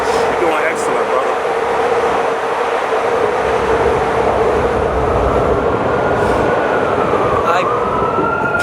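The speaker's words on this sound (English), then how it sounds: "Let this other train go by." A train rolls past close by with a loud, steady roar and rumble, and a thin metallic wheel squeal rises near the end; faint voices may be buried in the noise.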